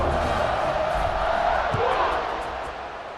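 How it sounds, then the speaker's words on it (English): Stadium crowd in a College Football 26 game roars steadily after an extra point and before the kickoff, a broad sustained cheer that fades slightly toward the end. "this crowd now ready to get behind them"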